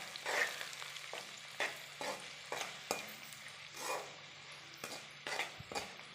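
Spice mixture being stirred in a frying pan for fried rice: a steady sizzle with repeated scraping strokes of a spoon against the pan about every second, close by and without speech.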